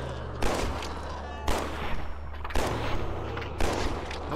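Gunshots in the horror game Golden Light, four loud, evenly spaced blasts about a second apart, each a sharp crack trailing into a booming decay.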